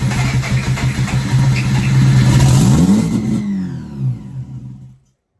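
A 13B turbo rotary engine fitted in a Mazda 323 fires up and revs loudly, with a rising then falling buzzy engine note, before cutting out abruptly into silence.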